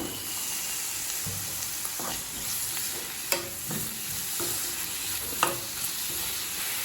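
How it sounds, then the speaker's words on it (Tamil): Mushrooms and mixed vegetables stir-fry in a pan for street-style mushroom fried rice, with a steady, fairly loud sizzle and intermittent scraping and tapping of a spatula, close and free of voices. "மஷ்ரூம் சேர்த்துட்டு 1 நிமிஷம் வரைக்கும் வதக்குனீங்கன்னா போதும்."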